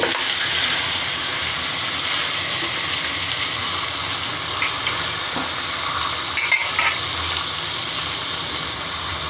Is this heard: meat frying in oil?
yes